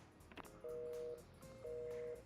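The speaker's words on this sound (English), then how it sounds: "I hang up the phone." A phone hangs up with two short, quiet bursts of electronic beeping tones, one after the other, over faint background noise.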